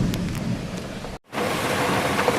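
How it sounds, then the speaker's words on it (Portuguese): Heavy rain pours down in a strong thunderstorm with gusty wind at a tilapia fishing spot, a loud continuous roar with rumbling low end, briefly cutting out midway before resuming just as hard. "Chovendo com força mesmo, hein? Tempestade mesmo, temporal."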